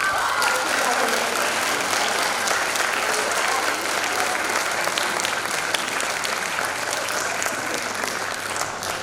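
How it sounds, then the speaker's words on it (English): Sustained, dense applause from a large audience at a Grade 8 promotion ceremony, loud and steady from start to finish with no break. "Let's give Sandy a round of applause."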